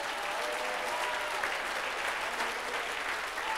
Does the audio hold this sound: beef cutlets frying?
no